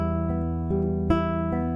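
A classical guitar plays Tarrega's Estudio in E Minor, an arpeggiated fingerpicked pattern with a quiet, even rhythm; notes ring sustained and close with clear regular plucks, melody notes accented by the ring finger.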